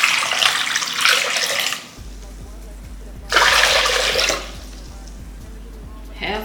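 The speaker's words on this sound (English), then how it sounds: "Half a pot of water." Water runs from a tap into a cooking pot, a hissing rush in bursts with pauses between, while a low steady hum continues underneath.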